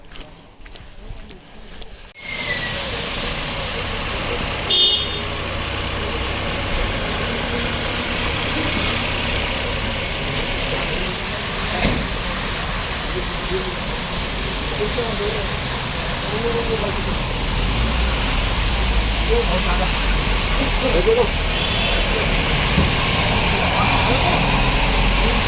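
Heavy monsoon rain pours steadily in the town of Narendra Nagar during a pilgrimage walk, a constant broad hiss filling the scene for the whole stretch, with a low engine rumble beneath it.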